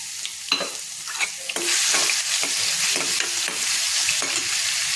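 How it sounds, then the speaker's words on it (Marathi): A few light clinks, then a sudden loud sizzle as garlic and cumin paste hits hot oil for tempering a vegetable dish and keeps frying steadily. "लसण आणि जिरे ह्याची पेस्ट केलेली आहे पाहू शकता ते मी इथं फोडणीला देणार आहे"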